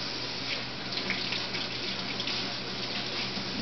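A bathtub tap runs steadily, filling water for a Havanese puppy's bath, with a constant, even rush of flow and no talking.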